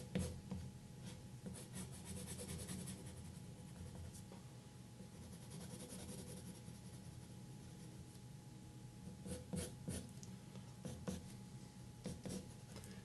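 Pencil scratching across paper while sketching fur for a drawing of Sven, the reindeer from Frozen: a quiet, continuous scratchy rasp with quick stroke bursts, close and alone.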